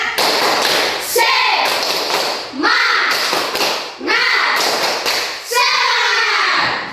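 A class of pupils does the 'tepuk semangat' clapping chant: repeated sets of brisk group claps and thumps, each followed by a short loud unison shout of children's voices, in a steady cycle.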